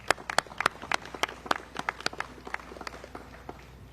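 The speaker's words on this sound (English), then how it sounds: "let's give them a big round of applause" An outdoor crowd at a septic-to-sewer groundbreaking ceremony gives a round of applause, with sparse, uneven claps from a modest gathering that thin out and soften toward the end.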